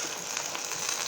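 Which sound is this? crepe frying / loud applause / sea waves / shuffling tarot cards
crepe frying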